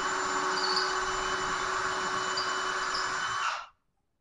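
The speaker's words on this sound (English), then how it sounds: "Get a 3/8 inch drill bit and we'll drill it out." Power drill with a 3/8 inch bit boring into a door for a deadbolt install, a steady high motor whine running for a few seconds before stopping abruptly.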